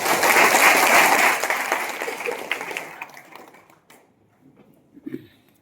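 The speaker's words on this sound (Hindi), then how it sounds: "एक बार इनके लिए जोरदार ताली बजाएं" Audience applause at a motivational income seminar, loud and dense at first, then thinning out and fading into near silence with a few scattered claps at the end.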